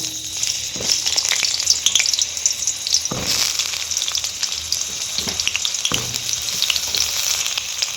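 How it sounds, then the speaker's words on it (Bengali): Pointed gourd (potol) fries in hot oil already used for peanuts, giving a continuous close, crackling sizzle with a few stirring scrapes and no talking. "ওই তেলের মধ্যেই আমি পটলগুলো ভেজে নেব"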